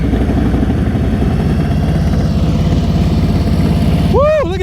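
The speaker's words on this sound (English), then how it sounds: "Whoever's next should already have their motorcycle running, ready to go." A motorcycle idles close by at a slow-speed riding practice session, a steady low rhythmic engine throb running throughout, with a brief whistle-like sound rising near the end.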